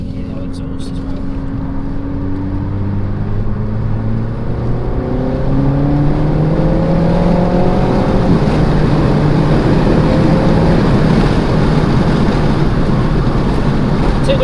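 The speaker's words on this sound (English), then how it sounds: "The windows open so you can hear the exhaust as well." A Renault Megane RS Trophy on lowered Cooksport springs drives with its windows open, the exhaust note climbing steadily as it accelerates beneath heavy, constant wind roar.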